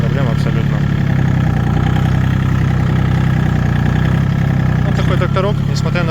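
Iseki TA-230 four-wheel-drive mini tractor with a rotary tiller, its engine running steadily at a constant close drone while someone talks over it throughout.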